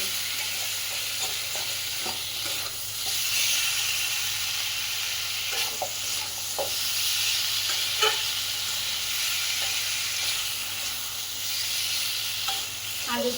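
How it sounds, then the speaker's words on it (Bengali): Potatoes sauté and get stirred in a hot pan, with a steady sizzling hiss broken by scraping spatula strokes, close and constant, with no voices. "আলুটা এই যে একটুখানি কষাই করে নিয়েছি"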